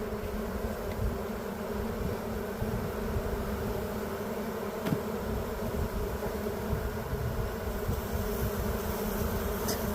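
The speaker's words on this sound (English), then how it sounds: "Cloud of bees." A dense cloud of honey bees buzzes continuously around an open hive, a loud, steady drone close at hand.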